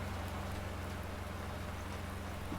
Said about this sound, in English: The rain couldn't have come at a better time,